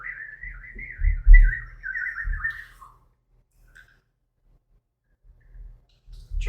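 During a tabletop fantasy role-playing game, a minor illusion spell is imitated by a person whistling a warbling, bird-like chirp for about two seconds, then falling quiet, with faint room noise around it.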